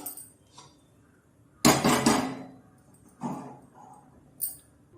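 A metal cooking pot clanks down onto a stove with a couple of lighter clinks afterward, close and sharp amid quiet.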